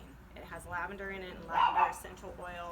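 Dogs bark and yip at horses on a rural property, short barks and whimpers heard faintly in the background beneath someone talking.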